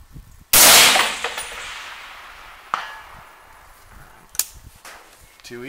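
A single loud rifle shot cracks close by and decays, then a faint metallic ping comes back from a steel target 546 yards away, with a couple of small clicks afterward.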